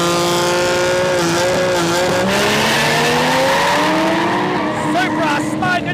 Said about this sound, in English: Supra smoking the tyres